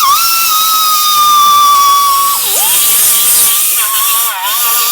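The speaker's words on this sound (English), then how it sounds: "I'll take my carbide bit and my die grinder, and I will clean some of the rust out of here" A die grinder fitted with a carbide bit cleans rust from a wheel bearing housing on a 2013 Nissan Titan, giving a loud, steady high-pitched whine that dips briefly twice as the bit bites into the metal.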